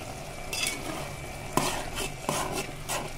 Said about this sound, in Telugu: టమాటాలు కూడా వేసేసాను. ఇప్పుడు ఒకసారి కలిపేసుకున్నాము.